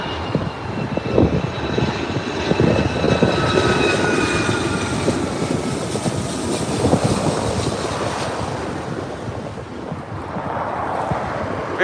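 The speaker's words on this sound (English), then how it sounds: "Very loud indeed, Rolls-Royce RB211s." A United Boeing 757-300 with Rolls-Royce RB211 engines roars steadily and loudly close by at LAX, the engine whine and broadband rumble swelling and lingering as it passes, with wind buffeting the microphone.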